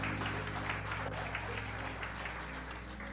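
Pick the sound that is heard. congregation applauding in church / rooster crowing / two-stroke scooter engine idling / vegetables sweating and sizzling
congregation applauding in church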